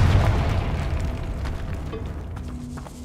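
A Confringo fire spell detonating in Hogwarts Legacy, one deep heavy boom that rumbles and slowly decays across three seconds inside a tomb, with no one talking.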